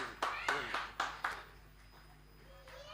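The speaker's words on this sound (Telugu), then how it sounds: "sir please claps" A handful of separate, sharp claps at a lucky draw prize event, about five in a quick uneven run, then quiet with a faint voice near the end.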